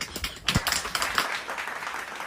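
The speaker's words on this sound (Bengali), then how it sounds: "সবাই মিলে হাততালি দিয়ে মা দুর্গাকে আহ্বান জানান" An audience claps to welcome Maa Durga at a Mahalaya stage show, a dense patter of many hands close by that carries on without a break and eases slightly toward the end.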